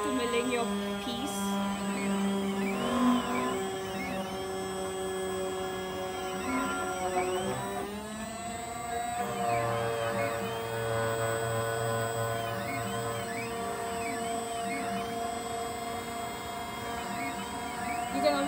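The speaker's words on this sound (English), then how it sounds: "And it goes back to milling your piece." An Othermill desktop milling machine cuts a piece with a steady whining hum and shifting tonal whirs as the spindle and axes move, continuous and close over about eighteen seconds.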